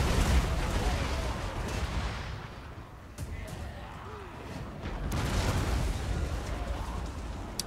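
Artillery in a Total War: Warhammer II battle firing back: a rumbling barrage of deep booms and blasts rolls across the field, swelling and easing, with battlefield din continuing underneath.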